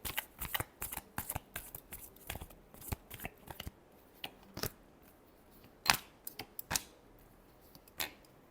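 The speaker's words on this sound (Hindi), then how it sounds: "Last shuffle." A deck of tarot cards is shuffled by hand in quick riffling bursts and crisp snaps, close and clear against a quiet room, with the pace thinning out toward the end.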